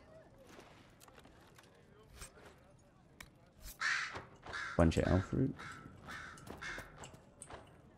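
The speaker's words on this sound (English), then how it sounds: "That crazy crow." A crow caws repeatedly in the fantasy video game Dragon Age: Inquisition, with loud harsh calls clustered midway, mixed with game ambience while someone talks over it.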